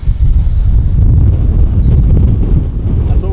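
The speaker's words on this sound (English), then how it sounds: "it's so windy everywhere" Strong wind buffets an outdoor microphone, a loud, rumbling, uneven roar that fills the whole short stretch, with no clear speech.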